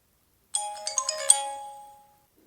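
An Alcatel OT-808 One Touch mobile phone from 2010 plays its power-on startup jingle, a short bright electronic melody of several chiming notes lasting about a second and a half, clear and close with no talk.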